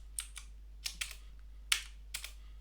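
Sparse keystrokes on a computer keyboard lacking a plus key, a few quick taps in small clusters, close and clear against a quiet, humming room.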